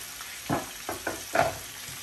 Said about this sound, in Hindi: मच्छी इधर फ्राई कर रहे हैं